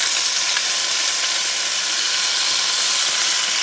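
Sofrito hits hot annatto oil for a shrimp asopao, a loud, steady broadband sizzle and hiss that holds unbroken throughout with no talking.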